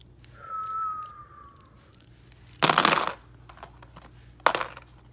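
Divination bones cast by hand in a bone-reading ritual, landing in two brief rattling clatters, the second shorter, with quiet room tone and a faint tonal whine between them.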